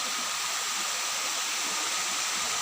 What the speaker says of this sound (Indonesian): Air terjun alam kandung yang masih alami